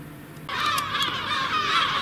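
Geese break into honking after a brief quiet start, a cluster of overlapping nasal calls at moderate distance, with no voices.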